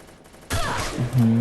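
A sniper shot in the Free Fire battle royale game: a sudden loud blast that rings out into a sustained rumbling tail, followed by rising tonal game sounds, with no clear talking.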